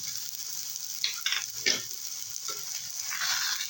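Ginger and cumin paste hits a hot pan for a taro leaf dish, a soft steady sizzle with a few sharper crackles and stirring scrapes, close and fairly quiet.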